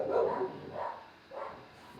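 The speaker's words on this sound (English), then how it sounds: "these dogs are going crazy" Agitated dogs bark in three spaced, moderately loud bursts, each bark harsh and roomy, with a quiet pause between them.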